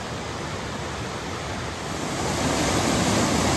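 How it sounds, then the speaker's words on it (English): Dismal Falls on the Appalachian Trail, heard up close as a loud, steady broadband rush of falling water that swells a little louder toward the end, with no voices. "Here is Dismal Falls up close and personal. Man, what a beautiful, beautiful waterfall."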